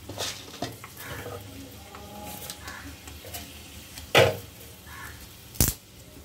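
Mace, cloves and chilli spluttering in hot oil for a paneer dish, a steady faint sizzle with scattered crackles, two sharp louder pops or clinks standing out near the end, no voices.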